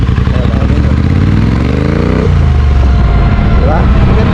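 A Triumph Speed Twin 900 with twin exhausts runs close by, a loud throbbing engine that rises in pitch as it revs, then drops, under ongoing talk.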